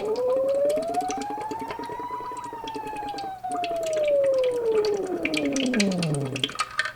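A singer's voice imitates a police siren as a vocal warm-up, one long continuous glide rising slowly then sweeping down, loud and close.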